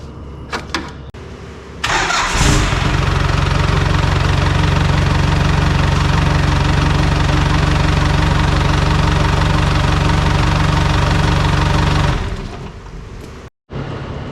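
A Holden Rodeo TF diesel engine cranks briefly, catches, and settles into a loud, steady, rattling idle for about ten seconds before shutting off.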